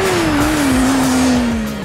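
A motorcycle braking hard on a track, a loud close engine drone with a falling whine as speed drops, steady and continuous without any voices.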